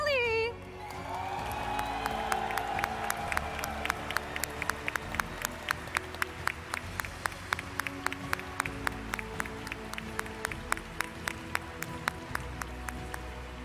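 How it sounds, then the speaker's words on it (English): Crowd applause and cheering for the Masters champion at the 2023 Pokémon Trading Card Game World Championships finals in Yokohama, Japan, a distant hall of clapping under regular sharp rhythmic hits, following a brief opening announcement. "And now a big round of applause for the trading card game Masters champion"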